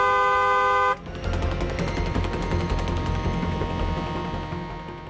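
A car horn blares one long steady tone at close range, then cuts off into a dense, busy mix of traffic noise and clatter.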